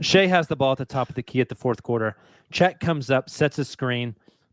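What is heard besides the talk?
No everyday noise stands out behind the speech.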